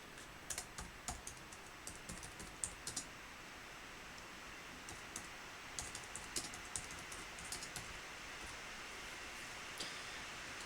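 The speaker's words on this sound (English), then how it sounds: "I keep typing several S's when I meant to type one S" Close, soft typing on a computer keyboard: irregular bursts of quick key clicks with brief pauses over a quiet room hiss, no voices.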